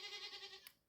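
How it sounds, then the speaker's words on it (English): Goats on an off-grid livestock homestead bleat in a faint, wavering cry of about half a second, followed by a short sharp noise and then quiet. "The goats say hi."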